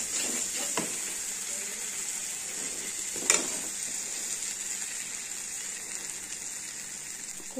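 A ground mustard and poppy seed paste, with cumin and chili, sizzles steadily as it is sautéed in a pan for a rohu fish curry. The hiss is continuous and close, with a couple of brief utensil clinks.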